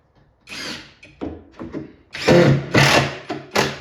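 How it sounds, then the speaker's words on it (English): A power driver runs screws into MDF in bursts of whirring that grow longer and louder, with short pauses between each drive, close up and with no talk. "Let's screw one side in."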